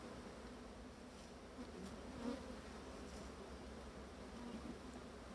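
A steady, soft buzzing of many honeybees at an open hive fills the clip, a continuous low hum with no other sounds.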